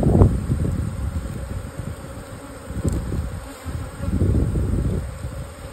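Honeybees buzzing around beehives, a dense continuous hum of many insects close to the microphone, rising and falling slightly in loudness, with some wind noise.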